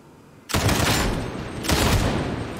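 Headhunter autogun firing triple-shot bursts in Warhammer 40,000: Darktide: two dense, loud bursts of rapid gunfire, the first about a second long and the second following shortly after, close and alone with no talk.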